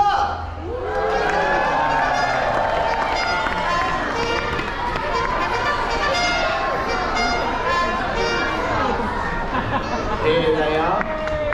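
A crowd at a Pixar Day at Sea show aboard a Disney cruise ship cheers and claps for the characters Russell and Doug, loud and sustained, with excited children's voices mixed into the noise.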